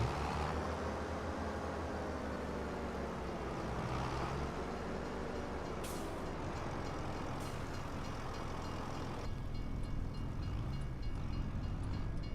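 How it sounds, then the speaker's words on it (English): A train in Farming Simulator 25 rolls past as a continuous low rumble with a rattling, mid-level roar, steady throughout with a couple of brief sharp clicks, no voices. "The train's gone."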